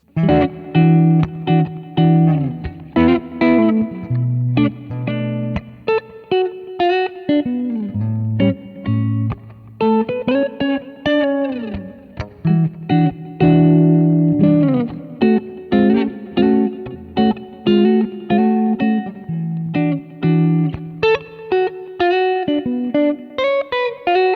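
Clean electric guitar through a Kemper amp profiler picks out chords and melodic runs with bright sparkle and a touch of reverb, played continuously for a long stretch without voices.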